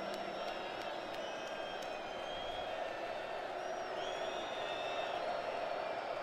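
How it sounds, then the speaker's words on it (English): Stadium crowd at a college football game, Cincinnati at West Virginia, roaring steadily for the home defense on third down, a sustained dense wash of cheering and whoops with a few sharp whistles near the start. "Crowd getting behind the defense"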